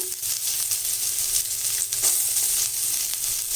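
Onion with mustard seed and cumin tempering sizzles in hot oil for sambar, a steady close hiss with small crackles and a faint scrape partway through.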